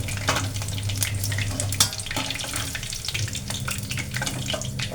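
Cauliflower pieces coated in cornflour fry in hot oil with a steady bubbling hiss, sharp clicks and clatters of a utensil scattered throughout, close and fairly loud with no voices.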